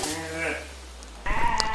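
Young goat and sheep kids bleat in a livestock pen, a wavering nasal bleat at the start followed by more overlapping bleats, fairly close and loud.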